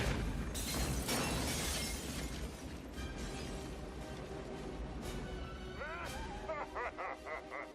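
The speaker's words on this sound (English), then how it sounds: "a bunch of explosions" Explosions from the Small Soldiers movie, with sharp shattering blasts and crashing debris piling up early, then fading into lighter bursts and chirpy effects beneath a busy mix.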